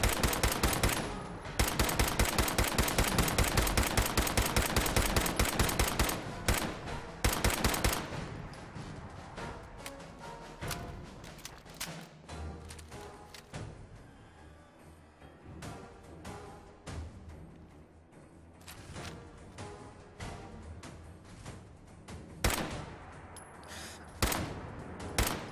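Rapid, loud shotgun blasts from the video game Fallout 4, with a dense burst of repeated shots early on, then scattered heavier bangs mixed with other game sounds.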